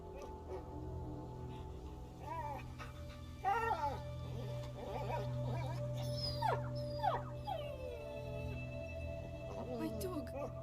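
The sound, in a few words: dog whimpering in video game A Plague Tale: Innocence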